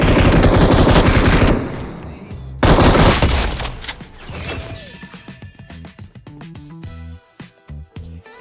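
M249 light machine gun fire in the mobile battle royale game BGMI: loud, dense automatic bursts that cut off, resume, then give way to scattered lighter shots and impacts, with no talk.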